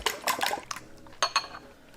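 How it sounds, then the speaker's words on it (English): A fork or whisk beats eggs in a bowl, giving quick clattering bursts of clinks that come in two short flurries, close and fairly loud. "And now it's time to beat our eggs."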